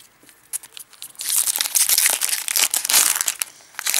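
A stack of Pokémon cards is pushed and handled on a table, giving close, busy crinkling and rustling bursts that start quietly and then stay loud and continuous.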